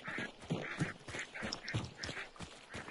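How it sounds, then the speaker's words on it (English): Geese in the game Hunt: Showdown honk and quack rapidly in a continuous, fairly close chatter of repeated calls, with no voices over them. "Stupid geese."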